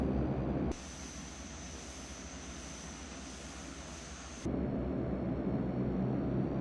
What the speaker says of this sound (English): They just require a little bit of power, the turboprops.